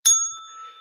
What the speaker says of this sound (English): where's the positivity bell?